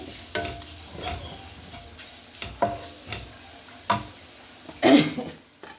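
Coriander and turmeric powder frying in a pan with chili powder, soft sizzling broken by several sharp stirring scrapes and clatters, close and fairly quiet, with a brief cough-like burst near the end.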